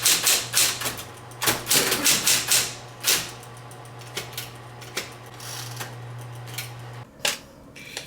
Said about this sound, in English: I thrifted this vintage typewriter that completely works. So I typed a letter to my future self.